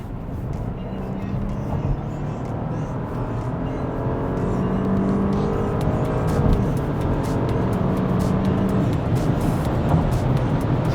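A Porsche Cayenne engine drones steadily and builds as it accelerates hard, a continuous low roar rising slightly in intensity throughout.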